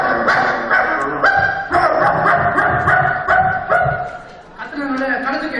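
A voice imitates a dog barking in a rapid string of loud, close yapping barks with whimpering tones, performed as a vocal sound-effect mimicry act.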